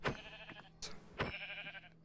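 A sheep in Minecraft VR bleats twice, short and nasal, close by and fairly quiet, with a soft rustle between the calls.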